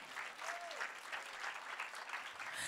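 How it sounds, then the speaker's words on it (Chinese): A church congregation claps together in a steady, even patter, sounding faint and somewhat distant, with no talk over the clapping. "拍手把荣耀归给主，"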